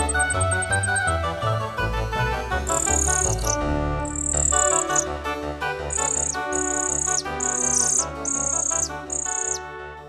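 Alpine birds, including Taiwan firecrests, sing in the high mountain forest of Hehuanshan, Taiwan, with repeated high, thin chirping phrases over a dense, continuous wash of musical background sound.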